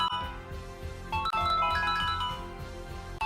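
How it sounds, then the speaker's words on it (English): An electronic ringtone plays steadily, a bright repeating melodic pattern with a sharp click partway through, loud and close with no voices. "Suddenly, everyone's phones starts ringing."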